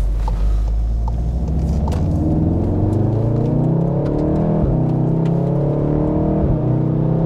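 A Volkswagen Golf 7R with a DSG gearbox accelerates on the road, its engine note climbing in pitch and then dropping sharply at two quick gear shifts before rising again, heard loud from inside the car.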